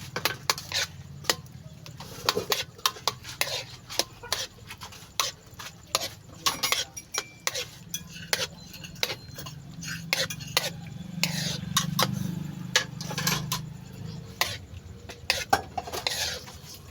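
Egg is stirred with vegetables and sardines in a pan, giving soft repeated scraping and clinking of a utensil against the pan, close up, with a quiet low sizzle and a voice speaking now and then.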